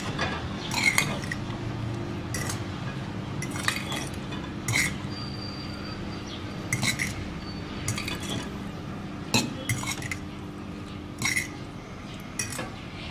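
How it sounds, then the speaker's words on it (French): A fork whisks a lemon, honey and egg yolk mixture in a bowl, giving repeated metallic clinks and taps against the bowl at an irregular rhythm over a soft steady background. "Vous mélangez le tout."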